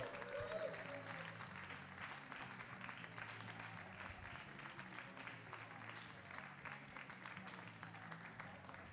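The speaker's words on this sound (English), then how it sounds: "another round of applause for them" Audience at the finals of a squash open tournament applauds a winner, steady sustained clapping filling the hall for the whole stretch with a faint crowd murmur underneath.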